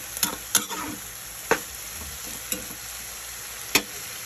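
Tofu mixture stirred and frying in a pan in a Bicolano home kitchen, a steady sizzle broken by several sharp utensil scrapes and knocks against the pan, close and alone.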